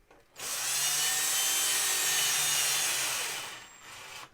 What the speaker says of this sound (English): Just run a screw down through it.